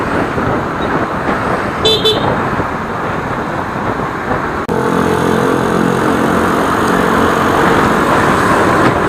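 A Yamaha Aerox 155 scooter rides along a road, its engine a steady dense whir under heavy wind rush, with a brief horn toot early on and a change in engine tone midway.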